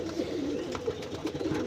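Pigeons coo softly in a pigeon house, a low continuous murmur of overlapping calls heard from close by without speech.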